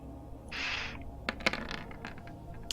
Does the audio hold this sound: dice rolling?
yes